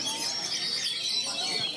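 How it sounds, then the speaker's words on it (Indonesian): Songbirds chirping and twittering at a bird-singing contest held at an elite hanging-cage venue in a village in South Lampung, a dense chorus of overlapping calls throughout, fairly steady and moderately loud with faint background murmur. "perlombaan burung berkicau kini kembali mulai digelar"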